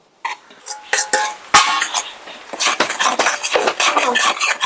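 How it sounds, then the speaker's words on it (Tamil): Herbal salt with long pepper dry-roasted in a pan, a sequence of scraping, rattling stirs and clinks of a metal spoon against the pan, close and fairly loud, with brief voice sounds between. "ஏற்கனவே வறுத்து அரைத்த உப்பு மூலிகையெல்லாம் போட்டு வறுத்து அரைத்த உப்பை வந்து இதில் கொட்டி திருப்ப லேசாக ஒரு வறு வறுத்துக்கிறோம்"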